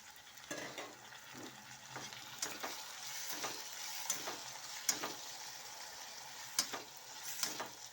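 Onions and tomatoes frying in a pan for egg gravy give a steady close sizzle, broken by regular sharp taps and scrapes of a stirring spoon, with no talk.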